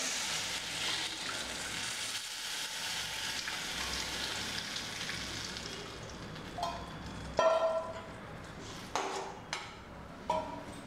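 Steady sizzling of a hot pan, then a few louder splashy bursts as tamarind water is poured in for mint rasam and the frying crackles up.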